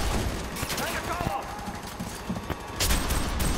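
Pistol gunfire in the shooter game FEAR 3 comes as loud, quick bursts of shots with short gaps between them, while people talk over it.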